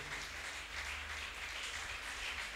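A congregation applauding during a church service, a steady sustained wash of clapping hands filling the space for a few seconds without any voices over it.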